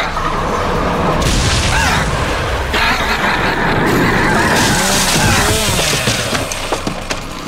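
A loud booming grenade blast erupts amid continuous rumbling noise and clatter, with scattered crashes and mechanical whirring throughout, in the video game Network Evil 6.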